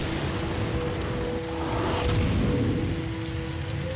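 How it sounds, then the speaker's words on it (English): Steady rain from a stage in the video game Capcom vs. SNK 2 hisses loudly and continuously across the whole stretch, a dense wash of noise with a low rumble underneath and no voices. "And it's raining."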